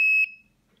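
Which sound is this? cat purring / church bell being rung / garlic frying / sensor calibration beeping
sensor calibration beeping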